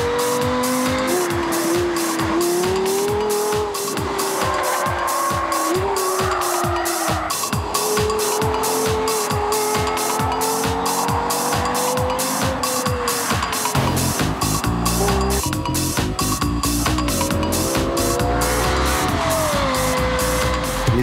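A Lexus LFA sports car with a six-speed gearbox revs hard and climbs through the gears. Each rising engine wail drops sharply at the quick shifts, loud and close over a steady rhythmic thumping backdrop.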